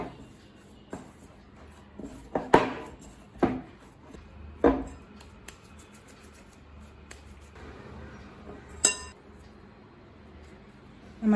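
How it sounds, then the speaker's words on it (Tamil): Chola poori dough being rolled out on a board, heard as a few soft, irregular knocks and rubbing scrapes, close and fairly quiet, with no talking. "சோளா பூரி தேய்க்க ஆரம்பிச்சிடலாம்."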